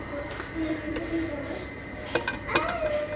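A cooker lid is lifted after fifteen minutes of cooking vegetables: a low hiss runs throughout, broken by a couple of sharp metallic clinks near the end, close by and moderately loud.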